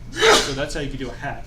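A single sneeze bursts out in a lecture hall during a talk on floating-point numbers, loud and close, followed at once by a voice continuing to speak.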